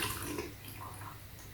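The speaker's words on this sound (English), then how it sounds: "And I'm going to put the water in the bottom of the filter." Water poured into the bottom of a Fluval Flex 123L aquarium's filter compartment, a steady splashing wash running throughout at moderate level.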